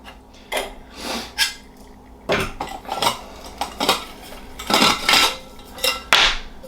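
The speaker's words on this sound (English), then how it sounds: "and then you can just put your stove right on the top" A backpacking stove and a 100 gram isobutane cartridge are packed into a metal cooking pot, giving a series of close, clattering metallic knocks and scrapes in irregular bursts, with no talking.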